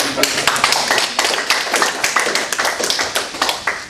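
An audience claps steadily at a university business bootcamp talk, a dense, even patter of many hands close and loud throughout, with no voices over it.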